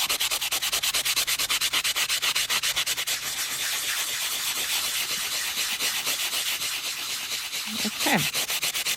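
Metal tape art being buffed by hand, a soft cloth rubbing steadily over embossed foil in fast, rhythmic strokes that turn into a continuous dense scrubbing, close and fairly loud, ending in a brief harder swipe.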